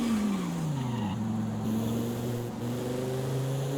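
Lamborghini V10 engine in Forza Horizon 5, a steady droning tone that dips briefly and then climbs as the car accelerates, with a light hiss of tire noise and no voices.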